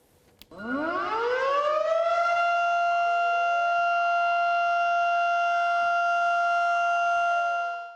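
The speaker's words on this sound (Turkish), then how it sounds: "Sirenler çaldı." A civil defense siren wails at 9:05 on 10 November in Turkey, rising in pitch after a brief click and then holding a steady, loud, sustained tone for several seconds with no voices.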